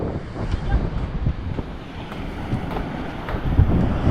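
Large ocean waves breaking near a boat at sea, a steady broad roar of surf mixed with heavy wind buffeting the microphone, with a few louder surges throughout.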